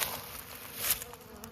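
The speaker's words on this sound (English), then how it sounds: "we got bees going in and out of this one, of the next one, and the next one." Honeybees flying in and out of a row of hives, a close, steady buzzing drone with wingbeats passing near, alone without talk.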